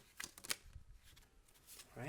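Tarot cards being shuffled by hand, quiet riffling and sliding bursts with small pauses between, close and soft; a faint voice briefly near the end.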